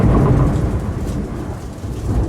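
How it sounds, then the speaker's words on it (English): A loud thunderstorm with deep rumbling thunder rolling continuously over heavy rain, close and full, no voices. "The storm roared."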